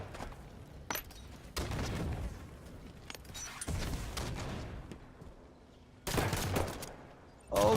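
Gunshots in a Halo 1v1 tournament match, several sharp loud shots and short bursts at irregular intervals over game ambience, ending in a heavier flurry of fire.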